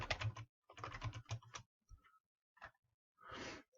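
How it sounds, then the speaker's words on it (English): Quiet bursts of clicking on a computer keyboard, a couple of quick clustered runs of keystrokes followed by a few isolated taps and a final soft rustle. "I will type done."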